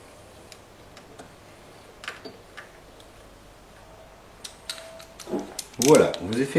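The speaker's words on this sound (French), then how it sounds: "un serrage d'approche avec un cliquet." A ratchet wrench snugs down screws in a series of sharp mechanical clicks, sparse at first, then quicker and louder bursts of ratcheting toward the end.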